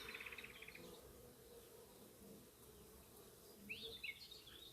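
Honeybees hum faintly inside an open beehive, a low steady drone close by, with a few brief high chirps from a bird near the start and end and no voices.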